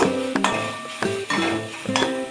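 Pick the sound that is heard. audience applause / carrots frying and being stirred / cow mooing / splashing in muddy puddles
carrots frying and being stirred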